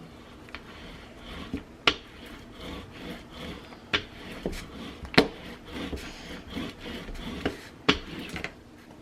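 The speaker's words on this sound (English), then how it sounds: "I'm going to burnish it from this side." An album cover print being burnished by hand, heard as close, soft scraping and rubbing strokes in an uneven rhythm, with a few sharper clicks of the tool mixed in and no talking.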